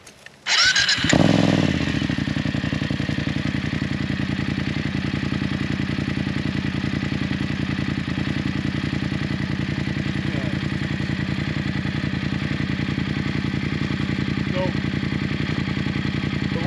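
A BMW GS adventure motorcycle starts with a brief clatter, then its engine idles steadily and loudly, close by, for the rest of the time.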